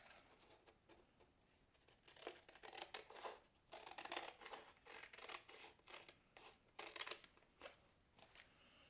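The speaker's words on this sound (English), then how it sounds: "bring in my scissors, and cut around it." Scissors snip through paper in a quick series of crisp cuts with short pauses between bursts, close and fairly quiet.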